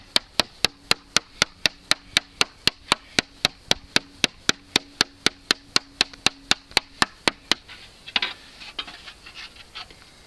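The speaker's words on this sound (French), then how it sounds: "Donc on lui redonne sa forme gentiment comme ça." Zinc sheet metal being reshaped by hand into a rounded caravan roof corner: a close, steady run of about thirty crisp hammer taps at an even fast pace, then the striking stops and soft handling noise follows.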